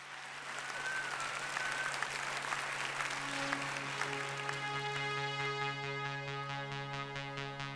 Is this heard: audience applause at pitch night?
yes